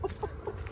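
Chickens cluck and squawk in short bursts while being chased outdoors near a rice field, three or four quick calls close by.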